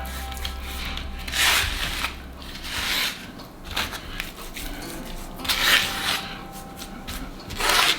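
Seasoning is rubbed by hand over a 10-pound pork shoulder. Soft, rough rasping strokes come in repeated bursts of a second or so, close and fairly quiet, with no voices.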